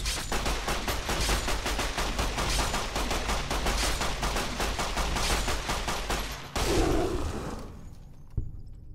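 Rapid gunfire from normal rounds in the video game Fallout: New Vegas, a dense, loud burst of repeated shots lasting several seconds, then an abrupt stop, a brief impact and a short tail.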